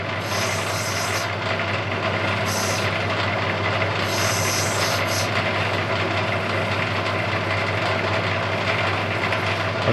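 An opal capstone being ground down and flattened on a lapidary wheel, a loud, constant grinding whir with a steady low hum, a sustained harsh scraping held at the same level throughout.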